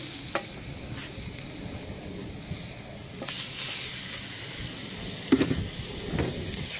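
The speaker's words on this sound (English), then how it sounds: "Just sear maybe about a minute or two on each side." Rib eye steak searing on a Diamond King smoker grill box, a steady broad sizzle and hiss throughout, swelling louder partway through, with a few sharp clicks and pops near the end and no talking.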